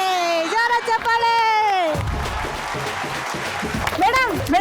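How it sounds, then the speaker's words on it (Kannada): Loud applause and cheering from a Kannada TV game show audience bursts in after a sustained sung or spoken vocal note, a dense crowd clapping for a couple of seconds before voices rise again. "ಜೋರ ಚಪ್ಪಾಳೆ"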